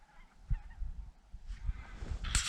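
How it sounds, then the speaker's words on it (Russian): Very large flocks of geese flying in V-formations high overhead during a duck-hunting morning give scattered, distant honks, faint at first and growing denser toward the end, with no talking. "Вон какой большой клин гусей летит."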